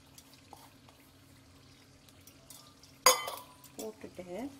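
A spoon scrapes and clatters in a pan as boiled vegetables are stirred into tomato masala, faint at first, then a sharp clank and several close scraping strokes.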